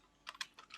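Typing on a mechanical computer keyboard with bouncy-sounding switches: a few crisp, separate key clicks in quick succession, fairly faint and close, with no voices.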